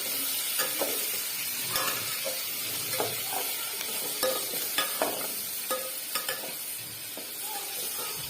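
Hot oil being stirred slowly in a pan before curry leaves go in, a continuous soft sizzle broken by repeated light spoon scrapes and small spits, fairly quiet and without voices.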